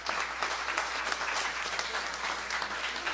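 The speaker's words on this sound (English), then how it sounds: "I think we owe a round of applause to all these people." Congregation at a service gives a round of applause to rabbis and others, a sustained, even wash of many hands clapping at a moderate distance, with no talk over it.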